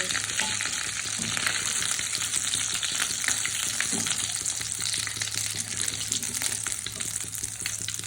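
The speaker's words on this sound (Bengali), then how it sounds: "একইভাবে আমি বাকিগুলো ভেজে নিই।" Another batch of potato pockets sputtering in hot oil, a steady, up-close hiss dense with fast crackles and small pops, unchanging from start to finish.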